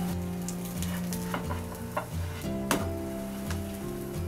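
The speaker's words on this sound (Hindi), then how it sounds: "इसी तरह से हम पलट पलट कर अच्छे से सेक लेंगे।" Sabudana thalipeeth, a sago flatbread, frying in ghee on a tawa gives a steady close sizzle with crackling pops and occasional scraping as it is turned. No talk is heard.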